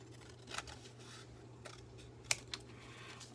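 Scissors snip around the edges of a paper journal tag in a quiet room, giving a few faint, sparse cuts with one sharper snip near the end, all over a low steady hum.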